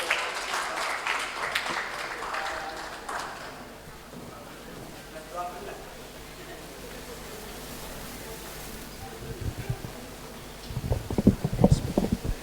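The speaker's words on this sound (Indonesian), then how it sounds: "Mari kita sambut dengan tepuk tangan yang meriah untuk Bapak Rosyid Ridho" Audience applause at a radiology workshop welcoming a speaker, a brief burst of clapping fading early, then a quiet room with scattered sounds before a louder second round of claps near the end.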